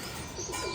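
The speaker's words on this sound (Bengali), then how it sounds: "আবারও নতুন একটা কবুতর কালেকশন করলাম, সুরমা খাকি।" Male Surma Khaki pigeon cooing close by, a soft, low, brief coo heard alone against a light background hiss.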